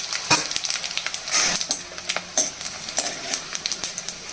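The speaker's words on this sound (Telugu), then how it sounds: "ఇప్పుడు ఇదే నూనెలో కచ్చపచ్చగా దంచుకున్న 5-6 వెల్లుల్లి రెక్కలు వేయాలి." Five or six coarsely crushed garlic cloves, four or five dried red chillies and a spoon of cumin frying in hot oil give a steady crackling sizzle, with sharp spattering pops and occasional stirring scrapes.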